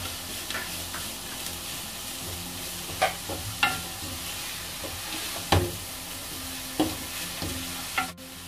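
Slit green chilies fry in a pan for a duck curry, with a soft background sizzle broken by several sharp spoon knocks and scrapes against the pan at irregular intervals.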